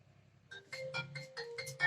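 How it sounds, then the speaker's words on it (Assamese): A mobile phone rings with an incoming call, a short, faint melodic ringtone of rising note bursts that grows a little louder toward the end. "কোনেনো ফোন কৰি থাকে জানো?"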